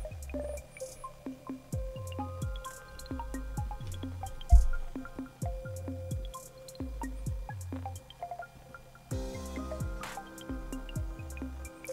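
Water trickling and dripping as a toilet cistern slowly drains, a steady run of close, distinct drips and gurgling plops that keeps going with no talk.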